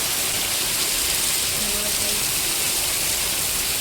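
Heavy rain pouring down in a village, a dense, loud and unbroken hiss of falling water that fills the whole stretch, with no pauses.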